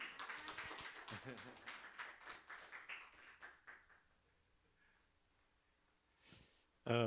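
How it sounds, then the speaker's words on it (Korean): Church attendees at an academy opening briefing clap to welcome a pastor, a fairly quiet patter of hands that fades out after a few seconds into near silence, then a brief burst of close voice at the very end. "우리 목사님 나오실 때 박수로 환영하겠습니다."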